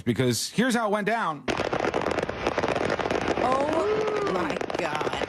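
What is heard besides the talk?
fireworks going off after pickup trailer accident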